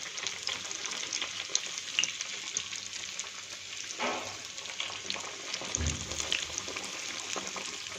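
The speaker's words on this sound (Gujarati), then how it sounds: "બંને સાઈડથી આપણે સારી રીતે ફ્રાય થવા દઈશું" Gujarati green pigeon pea dhebra fry in oil in a pan with a soft, continuous sizzle. Faint pops and a brief stirring or turning sound come partway through, and there is no talk.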